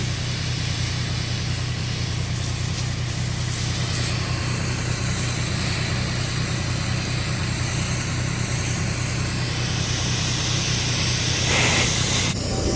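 Steady hiss of a soft wash spray applying cleaner to the weathered gray wood-textured shingles of a 150-year-old church roof, continuous and close, with a pump or engine droning underneath throughout.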